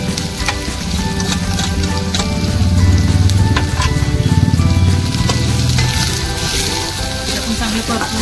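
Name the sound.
onion, garlic and chili sautéing in a pan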